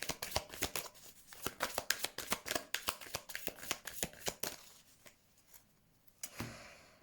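Tarot cards riffled and shuffled by hand in a steady run of crisp, close slaps and flutters, thinning toward the end with a final soft rustle.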